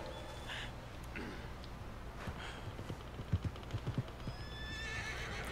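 A horse in Red Dead Redemption 2 whinnies, then hooves clip-clop in a short close burst, followed by another fainter whinny over low ambient game noise.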